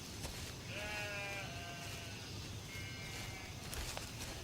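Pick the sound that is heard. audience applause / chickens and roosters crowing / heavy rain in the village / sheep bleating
sheep bleating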